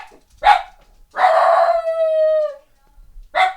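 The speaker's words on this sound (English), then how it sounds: "dogs are very loud" Dogs bark and howl nearby: short sharp barks at the start and end frame one long, wavering howl that rises and fades, loud and close with quiet gaps between.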